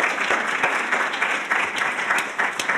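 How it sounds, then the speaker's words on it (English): An audience applauds the speakers after a talk on the refugee crisis and mental health: continuous dense clapping with some sharper individual claps standing out, fairly close and loud, no talking. "Give a round of applause for them."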